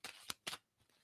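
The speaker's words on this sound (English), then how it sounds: "And I'm going to stop shuffling." Playing cards riffled and shuffled by hand in a few quick bursts, close and crisp, with a pause before faint rustling at the end.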